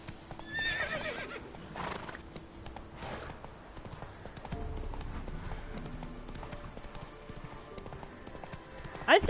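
Horse hooves clip-clop steadily while riding in the video game Witcher 3, with a neigh or whinny near the start and game sounds mixed underneath throughout.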